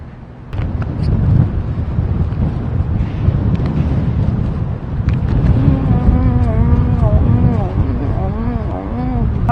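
Strong wind buffets the microphone on a fishing outing during a gale warning, a loud, continuous low rumble that starts after a short quiet moment, while someone talks over it.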